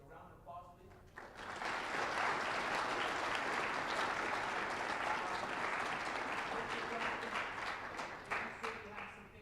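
An audience claps for panel speakers at a Grade 11/12 intercultural event, a sustained round of applause filling the room for several seconds before tapering off.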